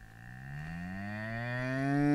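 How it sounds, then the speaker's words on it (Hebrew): A single drawn-out cow moo sounds nearby, rising gradually in pitch and growing louder across its length, alone without any speech. "פרה."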